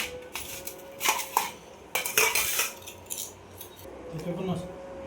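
Plates and cutlery clink and scrape in a home kitchen as a Maharashtrian meal is served, sharp metallic clatters in irregular bursts with a soft scraping between them, near and moderately loud.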